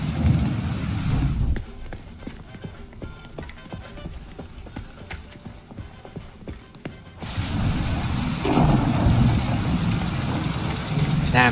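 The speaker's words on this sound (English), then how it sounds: "Damn, it's raining so hard." Heavy rain and thunder in the video game The Division 2: rain roars, drops out for several seconds while sharp clattering hits dominate, then the downpour returns loudly.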